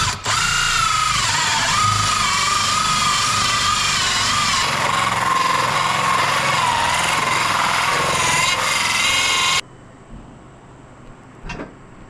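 A power drill bores a hole through a wall for a mini split installation, a loud, sustained whining grind with a rising and falling pitch, then cutting off abruptly near the end, followed by a few brief knocks.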